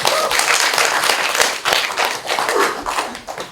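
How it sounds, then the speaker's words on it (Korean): Audience at an artist talk show in an art museum clapping for the artists, a dense, steady crowd applause that stays loud and sustained throughout with slight swells. "작가님께 다시 한번 큰 박수 부탁드릴게요."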